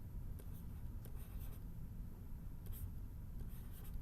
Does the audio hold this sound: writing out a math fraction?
yes